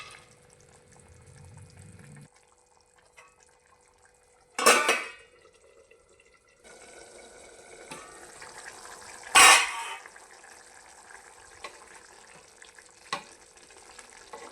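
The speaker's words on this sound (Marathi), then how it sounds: "भाजीला छान उकळी आली आहे" Bean seed curry (ghevda seed bhaji) simmers at a steady boil in a pot on a home stove, a faint low bubbling broken by two loud clattering knocks partway through.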